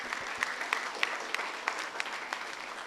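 A sparse scattering of handclaps from a Tamil Easter church congregation, a few distinct claps spaced irregularly over a soft background murmur, moderately faint and without clear speech.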